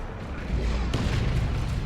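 Cannon fire in a Warhammer 40,000: Dawn of War 2 3v3 battle, with a sharp blast cutting through a muffled, rumbling background of combat.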